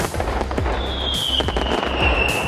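Fireworks display booming with repeated close bursts and crackles, a rising whistle drawing out across the middle, loud and continuous throughout.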